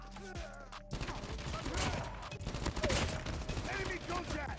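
Rapid bursts of automatic rifle fire from a gold Type 25 build in the mobile shooter Call of Duty Mobile, with close, repeated shots after a brief spoken line from the player.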